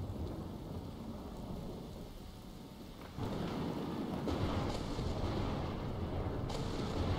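Steady rain hisses in the video game Skyrim while thunder rumbles low underneath, the downpour swelling noticeably louder partway through with no voices.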